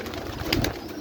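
Cooing from white pigeons in a loft, a soft low warble that swells briefly near the middle against steady rustling room noise, no voices.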